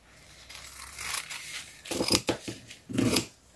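Scissors cut a paper napkin in two for a scrapbooking napkin-decoupage project, heard up close as a few crisp snips and rustling paper with no talk.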